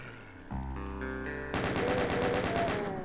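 In the video game Doom, a music-backed level gives way to a chaingunner enemy firing, a rapid rattling stream of gunshots that starts abruptly and keeps going over layered game music.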